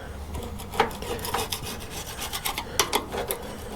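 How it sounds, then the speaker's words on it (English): Scraping crud off a part from an Ariens ST824 snow thrower being refurbished, a close, loud rasping scrape repeated in quick irregular strokes, with no talking. "I'll get it scraped off."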